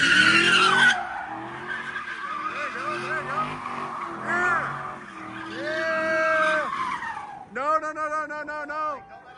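A high-powered car drifts with loud, wavering tire squeals that rise and fall in long sweeping tones, ending in a sharp rippling screech, while people talk over it.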